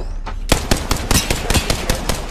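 Gunfire in Apex Legends, a quick string of sharp, loud shots fired in an uneven rapid rhythm, close and punchy with no talking.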